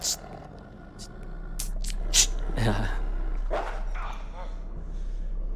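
Dog barks and yips in the horror video game Until Dawn, a few short sharp bursts mixed with a whimper, heard under ongoing chatter from players talking over the game.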